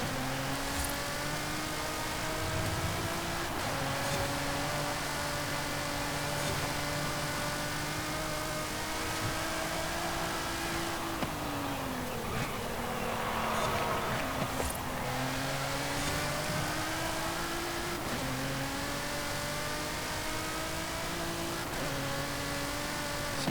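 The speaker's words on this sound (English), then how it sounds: "I'll let you listen to the car for a little bit first" A 2020 Nissan GT-R NISMO drives in Forza Horizon 5. Its engine drones steadily and rises in pitch through several upshifts, with brief dips between gears. It stays prominent and close with no talk over it.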